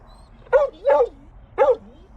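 A dog barks three times close by, two quick barks followed by a third after a short pause, with quiet in between.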